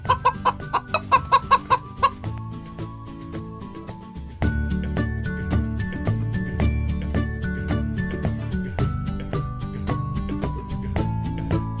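A hen clucking, first in a quick run of short, close clucks, then softer clucks heard over loud music that carries through to the end.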